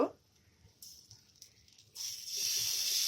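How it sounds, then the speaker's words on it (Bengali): Pumpkin flower pakoras dropped one at a time into a shallow film of oil, starting near silence before a bright, steady sizzle swells in and stays loud for the final second. "এবার আমি একটা একটা করে ভেজে নেব এইভাবে একটা একটা করে আমি দিয়ে দেব পাকোড়াগুলো"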